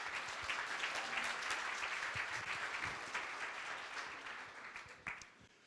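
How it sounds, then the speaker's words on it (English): An audience applauds at a community planning charrette for Watertown Square. The clapping is soft and distant, with sharp individual claps standing out from the steady wash, which tapers slightly toward the end. "I would like to applaud you all for being here,"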